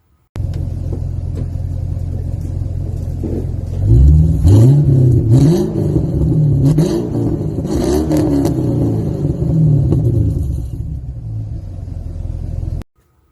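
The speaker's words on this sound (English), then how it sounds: "I did change the exhaust on this to just a catback system, a redback catback." A 2004 Holden Commodore VZ SS with an LS1 V8 and a Redback catback exhaust idles with a deep, loud rumble, then revs repeatedly in rising and falling blips before settling back to idle.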